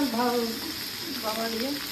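Mung dal fries in a pan with a steady, moderate sizzle, while a voice speaks briefly over it.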